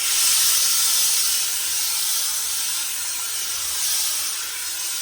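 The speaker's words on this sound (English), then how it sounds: "Gonna give it some steam, and that should hopefully give it some ease over the block" Steam hisses steadily onto a felt hat set over a wooden hat block during a Lock & Co Voyager folding hat refurbishment, a loud, close, continuous bright spray with no talking.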